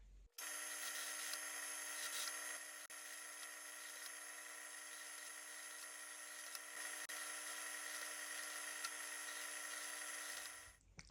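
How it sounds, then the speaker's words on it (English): A drill fitted with a countersink bit and depth stop cuts countersinks into screw holes in a tortoiseshell celluloid guitar pickguard, giving one continuous high, steady whine for about ten seconds before it spins down. "we're back at the drill again, and I've got a countersink bit loaded in the drill, and I've got the depth stop"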